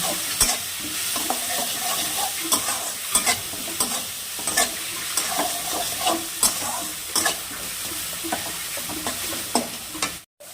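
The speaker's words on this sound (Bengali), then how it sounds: "হলুদ গুঁড়ো, লবণ, লঙ্কা গুঁড়ো, মশলাটা এখন ভালো করে কষিয়ে নিব" Spice paste of turmeric, salt and chili powder stir-fried for a fish curry, with steady sizzling and frequent scraping of the spoon against the pan, close and fairly loud throughout, no talk.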